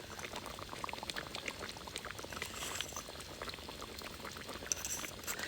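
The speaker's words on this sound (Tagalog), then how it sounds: "Lagyan na natin yan ng asukal para bumalanse na yung kanyang lasa." Caldereta simmers and bubbles steadily in a pot while sugar is added, a soft continuous boiling with light pouring and liquid churning, fairly faint and close, with no talking.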